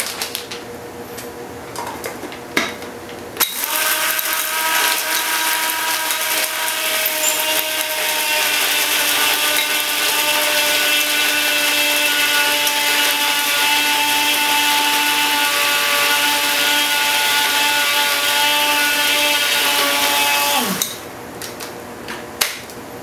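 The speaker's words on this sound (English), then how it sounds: "coffee grinder works really well" A coffee grinder roars continuously for about seventeen seconds as it grinds dry rice, a loud, close, whirring buzz with a short click before and after.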